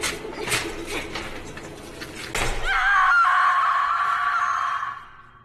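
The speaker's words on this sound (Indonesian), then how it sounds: "Dengan sisa tenaga yang ada, ia berteriak meminta tolong" A woman trapped in a basement screams for help in a film, a long piercing wail that follows a burst of clanking, banging mechanical noise and holds loud for about two seconds before cutting off.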